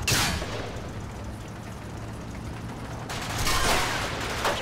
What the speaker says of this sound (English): that's why you hear the penetrating hits on just small arms fire